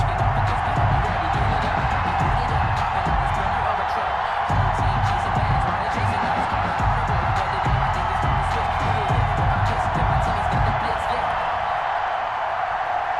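Buffalo Bills crowd cheering in their home stadium as the team runs out of the tunnel before a game against the Baltimore Ravens, a loud continuous roar that holds steady throughout.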